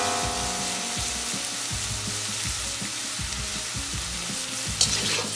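Beef, broccoli and carrots fry in a pan with a steady loud sizzle, while a utensil stirs and scrapes in a regular rhythm, and one sharp clatter comes near the end.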